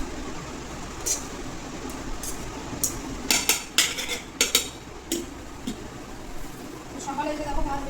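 A spoon clinks and scrapes against plates as rice is served in a home kitchen, with a flurry of close metallic taps midway while someone talks throughout.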